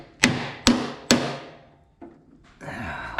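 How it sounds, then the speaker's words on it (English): A hammer strikes metal three times in quick succession, loud and close, driving a part into a Steiner 230 transaxle, followed by a couple of lighter knocks and handling noise. "take a hammer and hit here, I might be able to drive it in"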